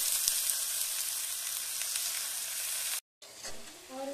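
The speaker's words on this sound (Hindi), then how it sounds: "इसमें डालेंगे पालक" Spinach frying in a hot pan for aloo palak, a loud dense hiss and crackle that runs almost continuously with faint stirring, cutting out briefly before resuming.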